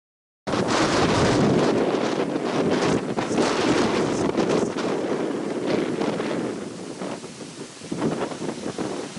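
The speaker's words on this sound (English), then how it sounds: "This day was very windy." Strong, steady wind buffeting the microphone, a loud continuous roar with gusty fluctuations throughout and no voices.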